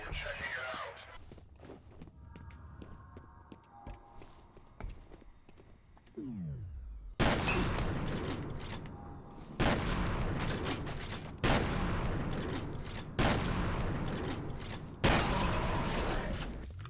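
Heavy shotgun blasts in the video game F.E.A.R., five loud, booming shots spaced a couple of seconds apart, each decaying slowly, preceded by quieter mechanical clicks and movement sounds.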